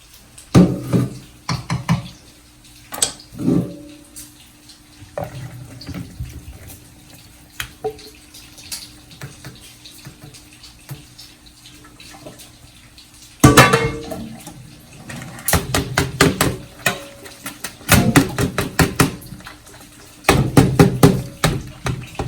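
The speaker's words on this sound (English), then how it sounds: "Ground beef and onions are done cooking. Now it's time to drain the grease." Grease drains from a pan of cooked ground beef and onions into a container, with irregular splashes, drips and pan clatter coming in bursts, louder and busier in the second half.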